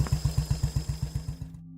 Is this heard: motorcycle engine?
yes